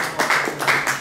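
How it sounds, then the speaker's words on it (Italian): A live audience claps together, a brief burst of bright, dense applause heard alone at close range. "Bel applauso"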